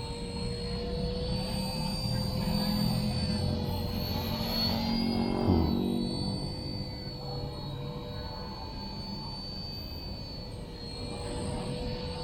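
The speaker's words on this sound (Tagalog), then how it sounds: "Classic RC helicopter, guys." An RC ERA Huey C032 radio-controlled helicopter flies outdoors on a calm day, its small motor and rotors giving a steady high-pitched whine and buzz that swells slightly as it passes closer, then settles.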